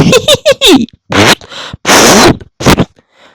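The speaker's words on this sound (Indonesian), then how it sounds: "Si nenek kembali tertawa dan kentut-kentut." Comic fart sound effects in an audio drama, a rapid string of short buzzy blasts followed by longer sputtering ones, close and loud with gaps between bursts.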